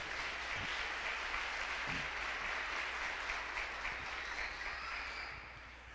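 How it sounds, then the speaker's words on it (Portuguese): A church congregation applauds after a scripture reading, a soft, steady wash of many hands clapping at a distance that tapers off toward the end. "Pode aplaudir a palavra de Deus"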